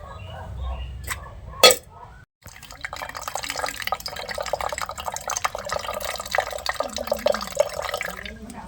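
Water drips and trickles from squeezed ground pulp, used for colouring thaen mittai sweets. After a brief bump and pause, a close, continuous patter of drops and thin streams follows.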